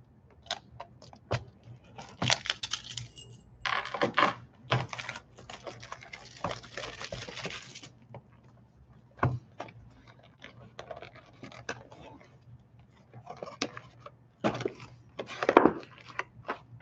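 Cardboard box being cut and torn open with keys instead of a box opener while opening a pack of Game of Thrones Season 7 trading cards; bursts of close scratching and ripping separated by quieter pauses and small clicks.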